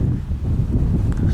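Strong wind gusts across a horse paddock, buffeting the microphone with a continuous low, rough roar that swells and dips throughout.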